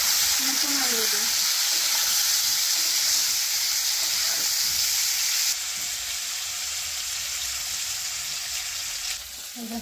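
New potatoes fry in hot oil in a pan, a close, steady sizzle with some stirring and a muffled voice early on, the hiss dropping slightly midway and continuing.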